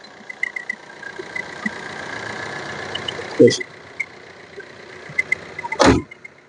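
A Maruti Suzuki Brezza diesel engine idles steadily with a low, even hum throughout, while two brief louder knocks or thumps break in near the middle and end.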